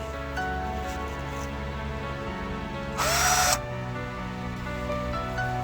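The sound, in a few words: drilling drainage holes in a plant container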